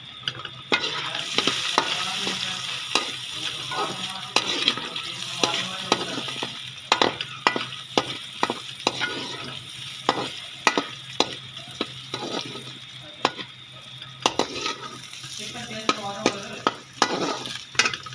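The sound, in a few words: frying carrots in a pan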